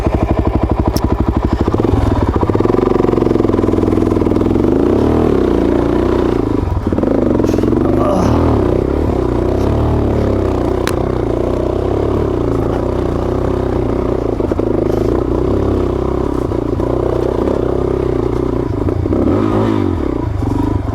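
A Suzuki DRZ400S dual sport motorcycle engine labors up steep single-track switchbacks, popping and sputtering loudly and continuously with uneven revs and close, rough clatter throughout.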